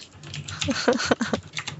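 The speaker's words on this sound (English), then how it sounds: "Sorry, did a little typing." Fingers tap on a computer keyboard in quick, irregular bursts of clicks, close and fairly clear, with a faint voice underneath.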